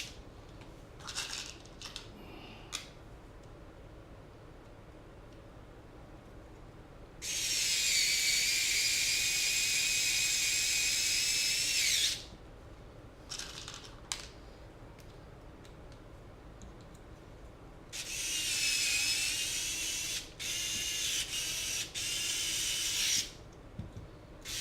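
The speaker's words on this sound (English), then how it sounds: "And then I'll go ahead and just put the last 8mm screws in." A small powered screwdriver drives the last 8mm screws into a Cyclone FPV Diablo-M220CK.v1 drone frame, whirring close up in two long, steady bursts separated by quiet handling clicks.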